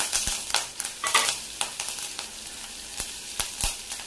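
Green chillies and curry leaves crackle and sizzle in hot oil with spluttering mustard seeds, with a spoon stirring and scraping the pan in short irregular bursts, close and fairly quiet.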